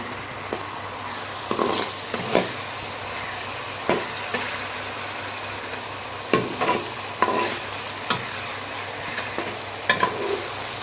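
Ginger and garlic sautéing on a medium flame for an aloo palak curry, a steady soft sizzle with a spoon scraping and stirring in repeated sharp strokes through the pan, close and alone.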